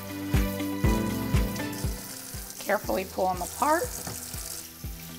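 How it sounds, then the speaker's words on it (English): Grape leaves being unfolded and rinsed under cold running tap water in a kitchen, with a steady water stream and splashing while a person talks over it, one or two louder rustles near the start. "we're gonna unfold them and rinse them over cold water"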